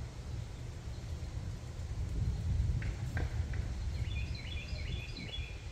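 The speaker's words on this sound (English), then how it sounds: "I don't know if you can hear this bird." A bird calls outside an RV parked at a campground, its short, clear chirps coming in a quick run near the end over a steady low background rumble of distant traffic.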